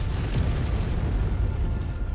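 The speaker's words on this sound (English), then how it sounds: "We're dodging artillery, chat. We are dodging artillery." Artillery shells explode in the Mechwarrior 5 video game, a continuous low rumbling boom that sounds heavy and sustained, with no voices over it.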